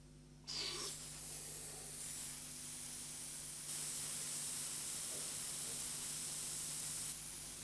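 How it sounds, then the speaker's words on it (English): Air rushes into the nozzle of a Sherwood M410 flame photometer's nebulizer, drawing up solution as a mist: a steady, loud spray-like hiss that jumps in after a short pause and continues evenly, with a low hum underneath. "The air flowing into the nozzle at the front of the unit draws solution up a thin tube and converts it into a mist"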